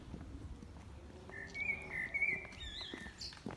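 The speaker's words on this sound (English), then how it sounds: "beautiful bird song." Faint birdsong outdoors: a few thin, high chirping phrases over soft background hiss and low rumble, quiet and somewhat distant, with no voices.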